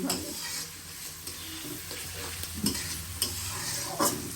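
Onions frying in a pan for a tripe curry, a steady sizzle with scraping and stirring strokes and a few louder clacks of the spoon, close and continuous with no talk.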